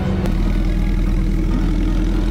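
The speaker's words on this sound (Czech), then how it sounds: "Oproti minulému roku sme vylepšili výfuky trošku." A rally car idles with its upgraded exhaust at a Žilina car rally, sounding as a steady, loud, low rumble that holds close for a couple of seconds, with no talk over it.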